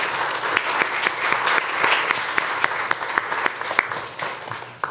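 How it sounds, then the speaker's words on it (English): An audience at a big data for sustainable development conference applauds its first panel, a dense, steady wash of many hands clapping at moderate distance with sharper individual claps poking through, fading slightly at the end. "Let's give a round of applause once again to our first panel."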